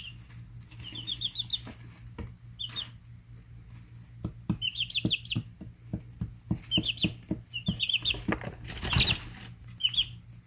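Young chicks cluck and peep in short bursts inside a small roosting house with perches at different heights, with soft wing flaps and light scratchy taps throughout, close and fairly quiet.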